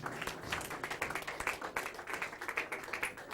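A church congregation claps in an uneven, moderately close patter of individual hand claps that carries on steadily for a few seconds.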